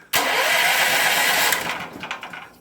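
A Powerhorse generator engine, its carburetor freshly cleaned and primed with carb cleaner, catches at once and roars loudly and steadily, then drops into a rougher, uneven idle.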